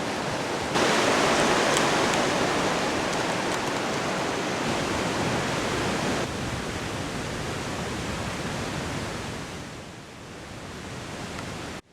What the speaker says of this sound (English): Just taking a rest along Bryant Creek here.